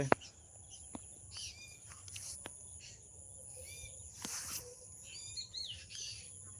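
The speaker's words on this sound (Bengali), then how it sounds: "এদিকে দেখো পাখিগুলো কত সুন্দর ডাকছে বসে বসে" Birds calling and chirping in an open field, with short high tweets and brief whistled phrases scattered over a steady insect-like background hum, fairly faint and distant, with no one speaking.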